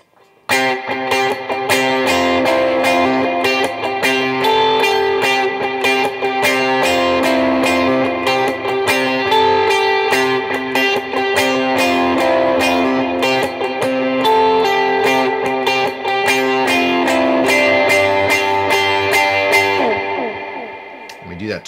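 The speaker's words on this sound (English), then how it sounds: "For this next chorus, we kick on our overdrive and we have this repeating riff." Electric guitar with overdrive and reverb playing a repeating worship-song riff, loud, steady picked notes cycling continuously for about twenty seconds and ringing out at the end.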